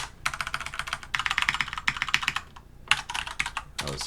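Fingers type on a computer keyboard in quick bursts of crisp clicking keystrokes, with short pauses between runs, close and fairly quiet, while code is entered in an editor.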